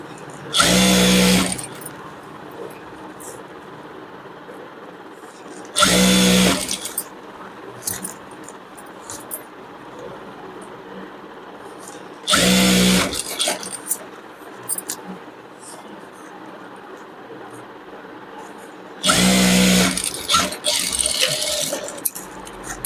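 A sewing machine stitches the lining onto the bottom of a blouse's back piece, running in four short, loud bursts of about a second and a half each, with quieter pauses between them.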